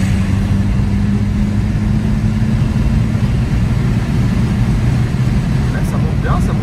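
A BMW 320d E90 diesel with Stage 1 tuning and full exhaust accelerating hard during an overtake, a steady loud engine drone heard from inside the car.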